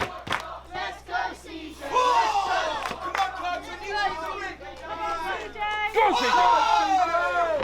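A wrestling crowd at a PW Clash bout roars and chants loudly throughout, a dense wall of shouting voices rising in waves with cheers swelling near the start and again at the end.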